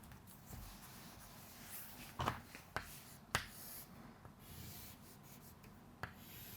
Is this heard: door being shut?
no